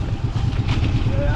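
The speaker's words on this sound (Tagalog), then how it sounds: "Pinaandar na ulit ang makina." The engine of a fishing boat at sea, restarted and now running, gives a steady low throbbing drone that stays continuous and fairly close.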